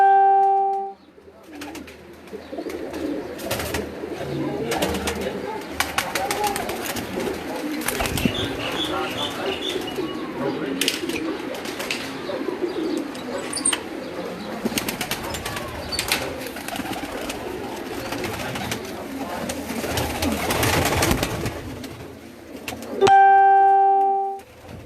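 Pigeons in a rooftop loft coo and flap about, soft calls and wing bursts scattered over a low murmur, with short electronic tones at the start and end.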